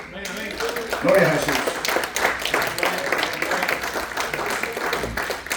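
Congregation clapping during an evangelical church service, a dense roll of applause with a voice praising aloud over it, busy and reverberant throughout.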